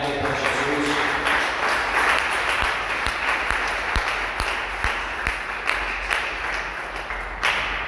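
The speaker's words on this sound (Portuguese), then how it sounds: "dê uma salva de palmas bem alegre para Jesus" A church congregation at a worship service bursts into sustained, loud applause, dense clapping filling the room steadily for the whole stretch with a few sharper claps standing out.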